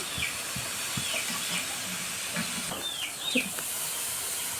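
Meal maker pakodis deep fry in hot oil, giving a steady, close hiss of bubbling with a few faint crackles and pops scattered through it.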